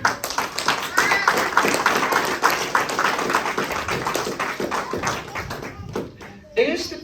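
Church congregation clapping hands during a Sunday worship service, a dense run of claps with thumps and voices mixed in, loud and steady before thinning out near the end.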